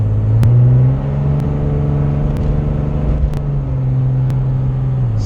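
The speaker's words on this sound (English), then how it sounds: "we're taking this thing home in the farm truck" An old farm truck drives along with a steady low engine drone and road rumble, moderately loud throughout with a few faint clicks and no talking.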